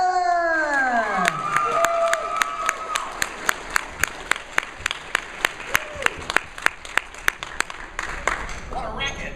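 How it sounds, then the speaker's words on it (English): Loud crowd applause and cheering fill an opening ceremony hall as a guest is called to the stage, with a rising voice over the start, then dense clapping punctuated by sharp rhythmic claps, and talking near the end. "bring up to the stage with a huge thunder of applause"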